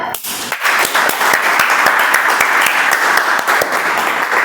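Steady applause from a room of people, many hands clapping continuously at close range for several seconds.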